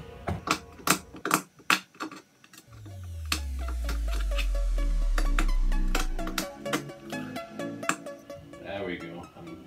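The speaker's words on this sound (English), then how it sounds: "Let's do a little more chipping here of the epoxy that is on top of the peel ply." A cutter chips hardened epoxy off peel ply on a composite trailing edge, giving a close series of sharp, irregular clicks and scrapes. A deep low hum swells and fades in the middle, and a person talks over part of it.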